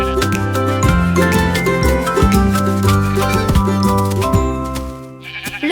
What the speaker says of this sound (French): petit Bo Peep a dû chercher le mouton.